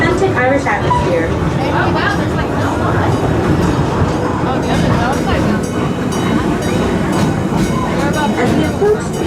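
The Busch Gardens Railway train rolls steadily along its track toward Tweedside Station, a loud continuous rumble with rhythmic clacking of the rail car over the joints, with talk and babble from riders blended in.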